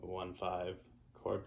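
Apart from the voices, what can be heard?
No everyday noises stand out.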